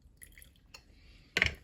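Water goes into a jar for thinning glue while making handmade paper: a few faint drips and small clinks, then a short louder splash near the end, with no voices.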